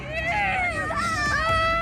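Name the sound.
women screaming and crying out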